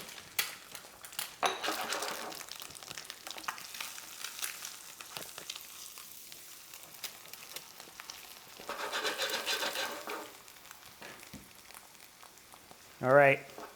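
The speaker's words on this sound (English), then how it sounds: "Egg's gonna sit, finish cooking in that pan." Egg frying in a pan for a croque madame, a soft steady sizzle with louder bursts of crackling midway, faint scrapes and clinks, and a short tonal chime near the end.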